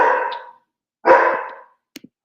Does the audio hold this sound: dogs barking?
yes